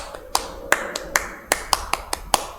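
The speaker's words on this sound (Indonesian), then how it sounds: "Tepuk pramuka" Pramuka scout clap performed as a rhythmic pattern of about nine sharp, close hand claps in irregular groupings, each crisp and distinct against a quiet background.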